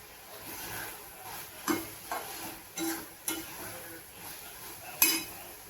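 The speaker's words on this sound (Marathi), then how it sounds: "शेंगदाणे टाकल्यावर पण बघा चांगलं मिक्स केलेले." A pan of cluster bean curry mixed with coarse roasted peanut powder is stirred with a spoon. Soft sizzling sits under scattered scrapes and occasional light clinks against the pan, quiet and close.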